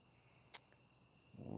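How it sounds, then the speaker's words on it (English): Crickets chirp at night in a suburban setting, a faint, steady high trill running unbroken throughout, with a soft click and a swell of low rumbling noise near the end. "Oh, the crickets and the creatures"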